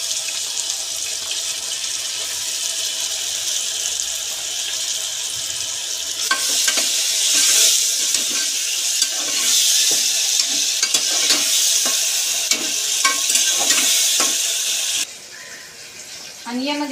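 Ginger garlic paste frying in a pan for biryani, a bright, steady sizzle with stirring clatter that grows busier midway, under occasional talk, then quieter at the end.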